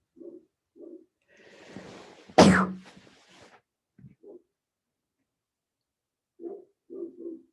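A single abrupt sneeze bursts out in a quiet room, surrounded by a few soft, brief murmurs and shuffles.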